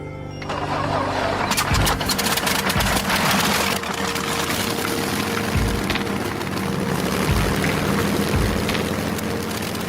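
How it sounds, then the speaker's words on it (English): A Rolls-Royce Merlin piston aircraft engine, the kind that powered Spitfires and Hurricanes, runs loud and steady with a rough broadband roar that holds for nearly ten seconds, with periodic deep throbbing pulses. "This is the legendary Rolls-Royce Merlin engine that powered the Spitfires and Hurricanes in the Battle of Britain"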